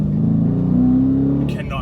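2017 Dodge Challenger R/T Shaker engine revving while driving, a deep steady rumble that rises slightly in pitch, heard close from inside the car, with a brief voice near the end.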